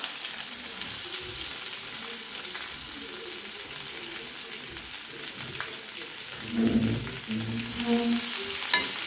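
Finely chopped large onions sizzle and crackle softly in hot oil, a steady frying hiss, with a few faint clinks of stirring near the end.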